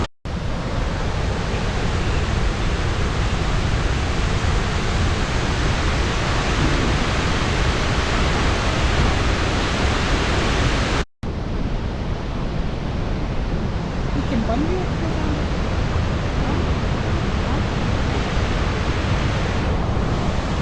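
A loud, continuous roar of Victoria Falls in Zambia, broad and unbroken, with a brief cut partway through and no voices.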